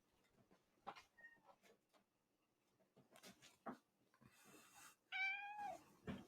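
Schroeder, a pet cat, meows and yells indoors in a string of scattered short cries and chirps, building to a long, loud, drawn-out yowl near the end.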